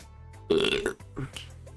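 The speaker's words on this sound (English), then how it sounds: "a burp is coming in 3, 2, 1" A single loud burp lasting about half a second from a person playing Z.A.T.O. I Love the World and Everything In It, followed by a shorter, softer belch, both over faint background game music.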